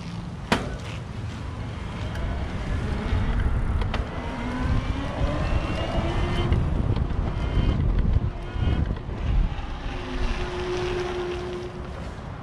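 Surly Big Easy electric cargo bike with its motor in turbo mode, a steady whirring drone under broadband wind rush while riding, with a few faint rising tones and brief clicks throughout.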